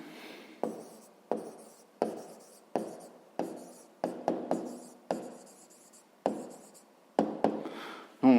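A pen writes on paper in short strokes, about a dozen close scratchy bursts spaced roughly evenly with quiet gaps between them.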